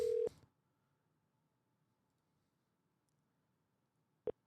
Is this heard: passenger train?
no